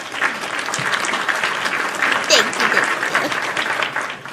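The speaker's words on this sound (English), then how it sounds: "Let's give her an applause really quickly" A live audience applauds steadily and loudly for Alaina Singleton, with dense clapping and a few voices mixed in throughout.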